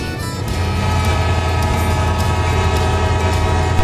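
A CSX freight train rumbles steadily nearby, a heavy continuous roar with rhythmic clatter and a brief higher tone.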